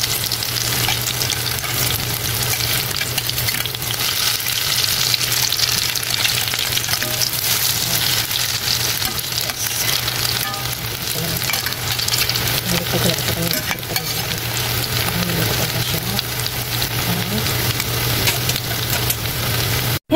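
Lechon meat fries in a pan with a dense, steady sizzle and crackle lasting the whole stretch, close and loud, with occasional stirring scrapes and a faint low hum beneath.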